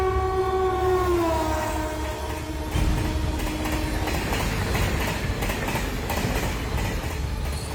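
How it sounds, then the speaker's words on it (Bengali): A train passes at speed, opening with a long horn blast that fades, then a loud dense rumble and clatter of wheels on rails that continues steadily to the end, no voices. "ট্রেনটা দ্রুত গতিতে আমার চোখের সামনে দিয়ে বেরিয়ে গেল।"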